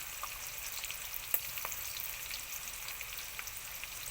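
Turmeric and salt frying in hot oil for a fish curry of parshe fish, brinjal and bori, a steady soft sizzle with faint crackles and one sharper pop, heard alone.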